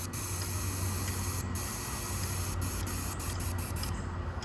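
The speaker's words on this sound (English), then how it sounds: "we have a gentle spray going right now" An airless paint sprayer spraying continuously, a loud, even hiss that holds steady throughout at close range, with no talk.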